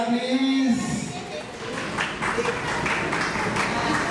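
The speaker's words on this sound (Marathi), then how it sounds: "clap your hands for Mira please आणि हे बर्थडे बॉय देणार आहे प्राइज मीराला ओके जोरदार टाळ्या प्लीज" Guests at a birthday party applaud a prize winner with a brief burst of clapping that builds after a moment of voices, while people talk over it.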